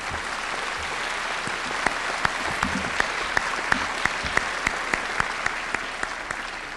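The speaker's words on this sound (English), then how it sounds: "That's worth clapping for." Steady applause from a large audience at a university convocation, dense and continuous with sharper individual claps popping through, filling the hall at an even level without talk.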